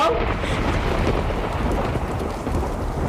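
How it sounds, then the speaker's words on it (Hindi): Heavy rain pours continuously while a deep roll of thunder rumbles underneath, loud and enveloping. "ये देखो, बारिश हो रही है।"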